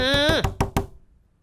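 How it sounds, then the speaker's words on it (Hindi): Three sharp raps on a door ring out in a comedy scene, coming right after a brief spoken voice, then fade into quiet. "गलत दरवाजा क्यों खटखटा रहा है?"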